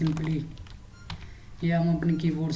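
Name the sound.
typing on a computer keyboard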